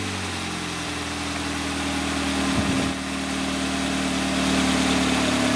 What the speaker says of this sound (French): je vais essayer de démarrer la voiture, vous allez voir ce que ça donne